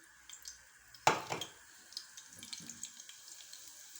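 Cumin seeds dropped into hot cooking oil give a sudden loud sizzle that then settles into a softer, crackling fry for a few seconds, with no talking.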